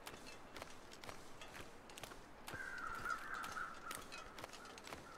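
Crows caw in the snowy wilderness of The Long Dark, a harsh, repeated call rising in the middle of the clip over crunching footsteps and quiet ambient wind.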